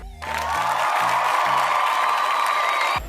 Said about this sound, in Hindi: तालियां आपके लिए